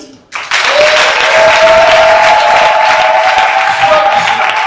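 A church congregation breaks into loud, sustained applause and cheering as they acclaim Jesus, a dense crowd roar rising abruptly and holding steady, with a high sustained vocal tone riding over the clapping.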